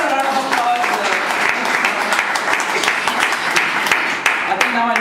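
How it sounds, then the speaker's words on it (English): An audience claps steadily and loudly for several seconds after a speech at a staged debate event, the dense applause filling the room without a break. "Give a round of applause."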